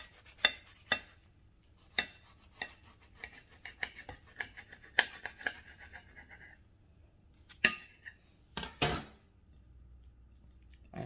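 A knife cuts through a vegetable-stuffed gordita with a quiet, irregular run of sharp taps and short scrapes against the board, heard close and alone.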